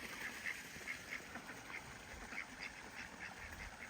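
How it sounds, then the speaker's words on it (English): Homestead geese honk and call in scattered short bursts, fairly faint and a little distant, over quiet background noise. "I'm gonna let the geese out now so they can have their turn."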